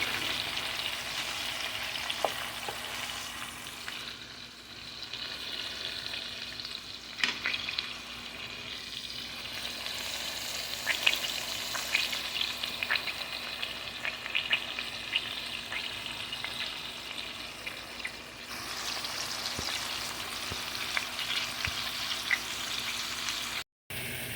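Barisal-style coconut prawns fry in a pan with a soft, steady sizzle. Intermittent scraping and stirring come as the prawns are turned, and a low hum runs beneath, with no talking.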